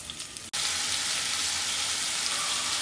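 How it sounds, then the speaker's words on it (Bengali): Potatoes hit hot oil in a pan with a sudden onset of steady, close sizzling that continues unbroken after a short pause. "এখন আমি আলুগুলা ছেড়ে দিব, আলুগুলা কষে নিব।"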